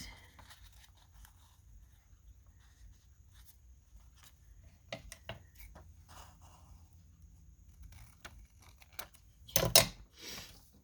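Scissors snip and trim paper while making a pocket tag, a few faint, short cutting clicks spread over a quiet room, ending in a louder rustle of paper handling.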